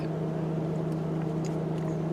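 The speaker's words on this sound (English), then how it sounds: "I can hear my cooling fans going" Engine cooling fans on a Chevy Silverado running steadily, a constant low whirring drone with no change in pitch or level throughout.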